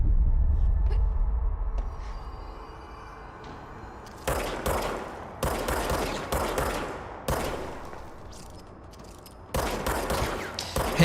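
Gunfire from weapons fired at enemies in the video game Control, a run of sharp, loud bursts in quick clusters with short pauses between them, over a low rumbling hum.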